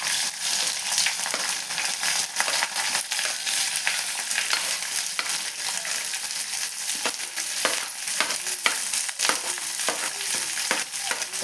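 Onion is added to hot oil with popped mustard seeds and curry leaves for aval kichadi, bringing a loud, continuous close-up sizzle with crackling pops and occasional stirring scrapes throughout.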